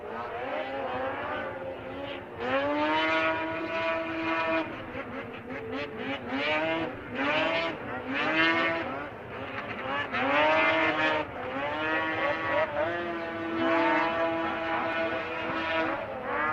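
Pro Champ racing snowmobiles from Marchbank Racing tear around an ice track at the World Championship Snowmobile Derby in Eagle River, engines loudly revving and whining, their pitch rising and falling as the sleds race past in a continuous roar.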